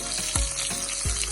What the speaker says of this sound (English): So, adding my celery,